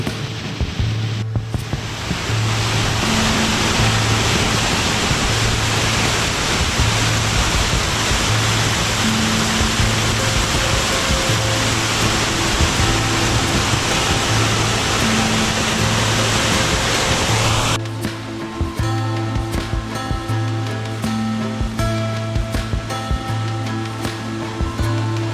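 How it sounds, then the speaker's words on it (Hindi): Heavy water rushing over Gulpur Waterfalls in Azad Kashmir, a loud continuous roar that shifts abruptly in tone partway through, with a low steady hum underneath and no talking. "पानी की फ्लो देखें आप, कितनी जबरदस्त फ्लो बन रही है।"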